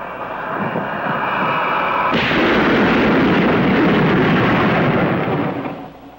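A 1950s jet aircraft in supersonic flight, its sound catching up at the pullout: a sudden loud, broad roaring rush bursts in after a quieter hum and holds strong for several seconds before fading slightly.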